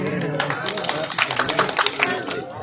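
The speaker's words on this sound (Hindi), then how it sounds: "जोरदार तालियां हो जाए एक बार इमरान भाई के लिए" Crowd clapping at a village political rally, a burst of scattered, uneven claps rising in the middle and mixed with voices and crowd noise.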